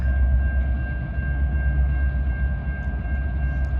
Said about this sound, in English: Here comes another Norfolk Southern westbound.